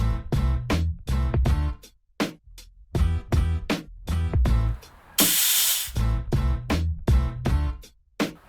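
Compressed air or lubricant spray shot under the handlebar grip of a Royal Enfield Continental GT 650 gives one short, loud hissing burst lasting about a second, set against steady rhythmic background music.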